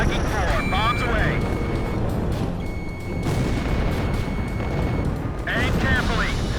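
Rumbling bomb explosions and roaring jet engine noise from the Ace Combat 5 PlayStation 2 flight combat game, dense and continuous, with dull booms layered over a steady engine drone and beeping cockpit tones.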